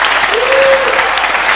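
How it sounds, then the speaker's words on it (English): An audience at a spoken-word comedy night claps for the compère, a steady dense wash of applause across the whole moment with a faint voice line rising briefly over it. "can I have a round of applause for Steve"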